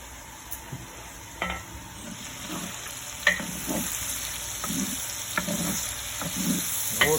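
Chicken for jambalaya frying in a pot, with a steady close sizzle and repeated scraping stirs of a utensil across the bottom, and no voices.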